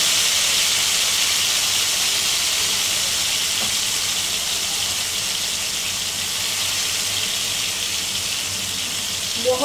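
Marinated, stuffed whole chicken frying in hot oil over a low flame gives a steady, even sizzling hiss that stays constant throughout, with a faint pop near the end.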